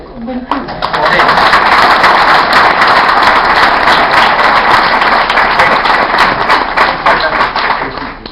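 Sustained, dense applause from an audience at a book presentation in Madrid for a collection of village stories. Many hands clap loudly and steadily for about eight seconds, close and continuous, with no voices standing out.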